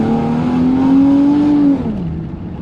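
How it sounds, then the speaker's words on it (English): A Holden Commodore engine with a cut muffler revs loudly and steadily, holding a raw, droning note before the revs drop away near the end. "this is the cut muffler."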